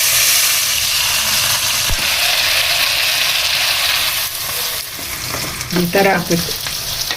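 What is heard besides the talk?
mustard seeds frying and sizzling in oil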